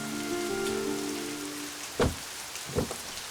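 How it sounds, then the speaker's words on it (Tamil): Heavy rain falls with a constant wash of drops, and two short, loud low rumbles of thunder break through it near the end, with no voices. "பாரு, மழை வேற எப்படி பெய்யுதுன்னு"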